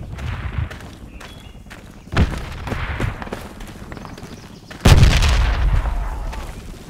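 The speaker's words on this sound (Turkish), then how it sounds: "Öldü, bomba götürdü." Two heavy explosions in Project Reality, a tactical infantry shooter, one at about two seconds and a louder, nearer blast later, with scattered gunfire and artillery-like booms in between.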